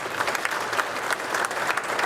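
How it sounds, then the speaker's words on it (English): Sustained applause from an audience honoring a reverend, dense and steady clapping filling the room throughout. "Give Reverend Granville a round of applause."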